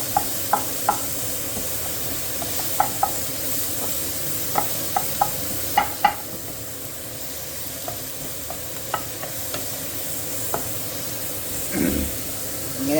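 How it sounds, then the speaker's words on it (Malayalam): Sliced onion and chili powder sauté in a pan for a pea thoran, giving a steady close sizzle with light scraping clicks from the stirring spoon and no talking. "തോരനിൽ പാനിലിട്ട് നമ്മൾ സവോള മുളക് പൊടി ഇതൊക്കെ ഇട്ട് നല്ല വഴറ്റിയെടുക്കുകയാണ്"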